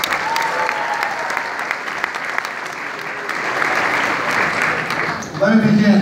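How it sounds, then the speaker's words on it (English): Sustained audience applause fills a community event hosted at Mount St. Vincent's, steady crowd clapping throughout, swelling slightly near the end as a voice begins to speak over it. "So let's give them a round of applause."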